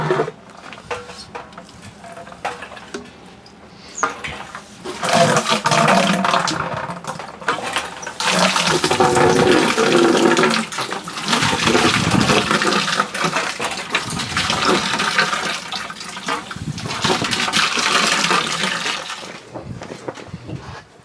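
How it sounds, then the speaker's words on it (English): A bilge pump draws water out of a water softener tank, giving a steady splashing, gurgling rush of liquid that runs loud and close for most of the stretch, with a quieter, intermittent start. "Let's use the bilge pump."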